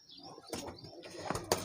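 Large adult pigeons on a rooftop give a few quick bursts of wing flapping against faint background cooing, close by and fairly quiet.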